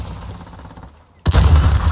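Automatic gunfire in Call of Duty Modern Warfare during a hardcore team deathmatch on the Hovec Sawmill map: quieter game noise gives way to a loud, sustained burst of rapid shots near the end, with no talking.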